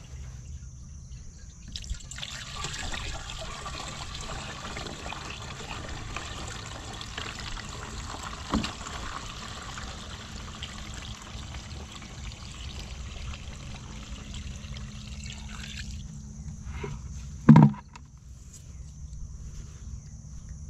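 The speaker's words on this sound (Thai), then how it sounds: "แล้วก็เทน้ำผสมเลยครับ" Water is poured into a herbicide sprayer tank in a cassava field, a continuous rushing pour lasting several seconds that stops abruptly, followed by a short knock and quiet.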